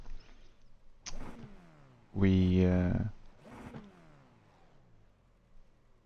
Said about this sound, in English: Today we are at Sebring with the Formula 4.